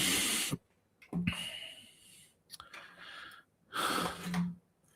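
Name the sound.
person snoring in bed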